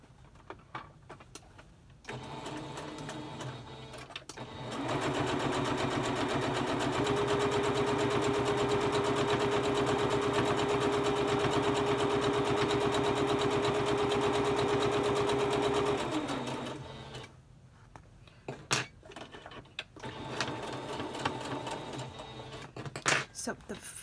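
A sewing machine runs steadily for about eleven seconds, stitching through layers of a pleated fabric mask with interfacing, its motor whirring at an even pitch, with softer handling noises before and after.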